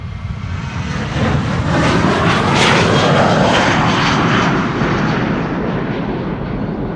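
Passenger jet departing on runway 36L, the Polderbaan, at Amsterdam Schiphol Airport, a loud sustained engine roar that swells and passes with a broad rumbling wash and lingering thrust noise.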